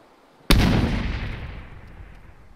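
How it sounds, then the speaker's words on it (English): A grenade detonates in ARMA 3 with one sudden loud blast, then a long rumbling tail fades away over about two seconds, with no voices. "Nobody go forward, I'm throwing a grenade."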